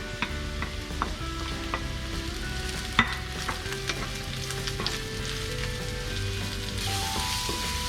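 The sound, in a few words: mushrooms frying and sizzling in pan for veggie burger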